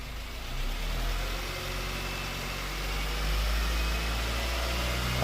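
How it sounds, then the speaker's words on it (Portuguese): A Honda Fit car engine revs up and holds steady around 2000 RPM, with a continuous low hum and a slight rise partway through, heard close and alone with no talk. "Acelera ele ali pra mim a 2000 RPM, gente, por favor."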